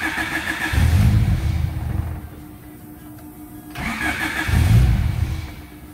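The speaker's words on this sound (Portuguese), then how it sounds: "Pode ser que o carro fique um pouquinho difícil para pegar, mas vamos ver aqui como que vai se comportar." Petrol car engine fitted with Bosch injectors and programmable injection, cranking and catching twice in a row, each attempt a loud low rumble that swells and fades, with quieter idle between.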